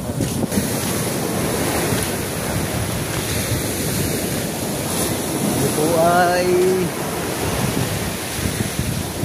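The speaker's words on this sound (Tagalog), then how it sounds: "nandito po ulit ako sa tabing dagat" Sea waves washing onto a seashore, a loud continuous roar of surf mixed with wind buffeting the microphone, with someone speaking briefly over it.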